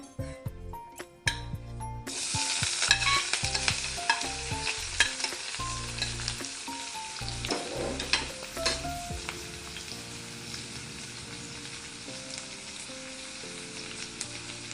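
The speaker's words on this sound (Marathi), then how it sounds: "तेल गरम झालं कांदा टाकूया" Chopped onion hits hot oil for an elephant foot yam and prawn curry, bursting into a loud, continuous close sizzle after about two seconds, with stirring and background music underneath.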